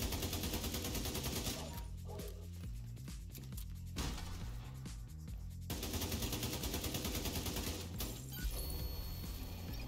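Gunfire in The Division 2 video game's Dark Zone, with rapid automatic bursts rattling in repeated stretches and short lulls between them, loud and close.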